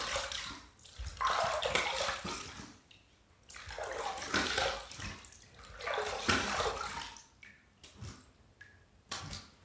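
Water splashing and sloshing in a filled sink as a face and shaving tools are rinsed after a third shaving pass, coming in several loud surges with short quieter gaps between them.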